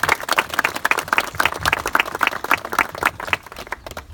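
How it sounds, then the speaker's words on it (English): Audience applause at a Memorial Day event, a steady burst of many hands clapping close by that holds for several seconds before thinning out toward the end. "we get a big round of applause for the folks that put this together."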